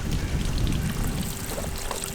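Water runs into a camping water tank in a steady, close gurgling and trickling pour that fills the short stretch alone.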